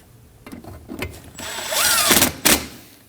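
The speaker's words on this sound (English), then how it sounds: "And we can reinstall the 10mm bolt." Ratchet tightening a 10mm bolt on the air filter box of a 2003-2006 Subaru Baja, a few quick clicks followed by a longer ratcheting whir and a final clack, close up.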